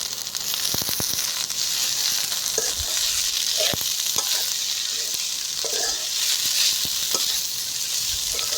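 Curry leaves and onions sauté in a pan for a village-style fish fry, giving a steady, loud sizzle throughout with scattered crackles and pops and occasional scrapes of stirring, close by, with no talking.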